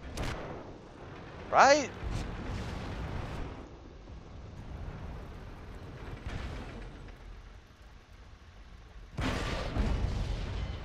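A 75 mm tank gun fires in the video game World of Tanks: a few heavy booming blasts with rumbling tails, spaced apart, under a game engine drone and a brief spoken word.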